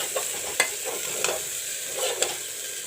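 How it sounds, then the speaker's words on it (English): Masala browning in a pan for a pea curry (matar sabji), a steady soft sizzle broken by a few sharp scraping stirs of the spoon, close and moderately loud. "Let the masala turn brown."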